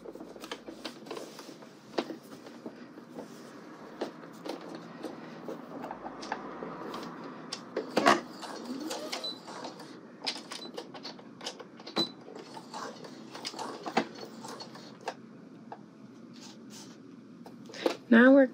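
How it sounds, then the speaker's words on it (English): A sewing machine stitches a sleeve onto a garment body at a 5/8 inch seam allowance, giving a close, steady mechanical whir with irregular ticking clicks and brief pauses as the fabric is eased through. "Now we're going to stitch the sleeve onto the body at the same 5/8 of an inch seam allowance"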